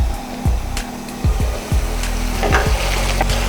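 Potatoes frying in biryani masala in a wok give a loud, close, continuous sizzle, broken by several scraping stirs of a spatula against the pan, with no voices.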